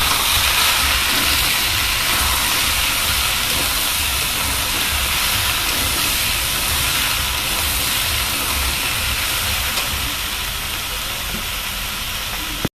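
Potatoes and drumstick pieces fry in a pan with a little oil for a vegetarian curry, giving off a loud, continuous sizzle and hiss that stays steady from start to finish.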